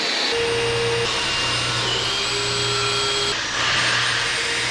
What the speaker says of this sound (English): All right, we got the holes drilled out to 7/16